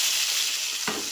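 Finely chopped small shallots hitting hot oil, a bright continuous sizzle with a soft stir or drop near the end, close and loud, no talking.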